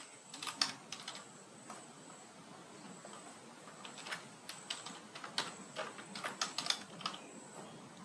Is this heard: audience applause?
no